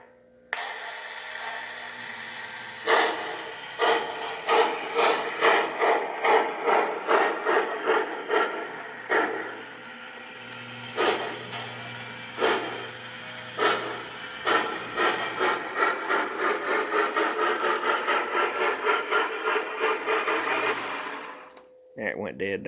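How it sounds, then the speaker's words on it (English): A Lionel LionChief toy steam locomotive from a Prairie freight set puffs out rhythmic electronic chuffs in quick repeating bursts, close up and fairly quiet, over a steady hiss, with a short pause partway and a final stop. "But here, listen to the chuffs now."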